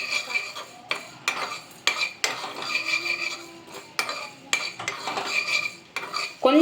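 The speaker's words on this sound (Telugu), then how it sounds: "ఇవన్నీ ఒకదాని ఒకటి వేసేసి దోరగా వేయించేసేయండి" Mustard seeds, cumin and spices stir-fried in a pan, with repeated metal spoon scrapes and clinks against the pan over a light sizzle, in close, rhythmic strokes.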